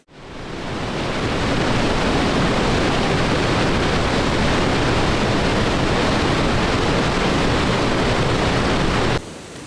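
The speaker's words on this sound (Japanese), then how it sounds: "岩壁になってて迫力のある滝となっています" A powerful waterfall pours down a rock wall lined with ferns and moss, a loud, unbroken roaring wash that swells in at the start and holds steady throughout.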